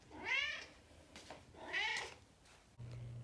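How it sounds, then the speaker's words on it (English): A cat lets out two long, drawn-out meows a moment apart, clear and close in a quiet room, asking to be fed, with a low hum coming in at the end. "He'll just continue meowing like this for an hour and a half."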